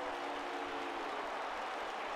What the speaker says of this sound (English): The crowd does not like Joe